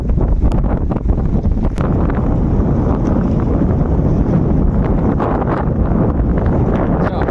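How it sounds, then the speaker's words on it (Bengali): Strong wind after a storm blows across a riverbank in the Sundarban, a loud, unbroken roar buffeting the microphone for the whole stretch. "হাওয়া হচ্ছে, মনে হচ্ছে কাত করে ফেলে দেবে, দাঁড়িয়ে থাকে এত ঝড়"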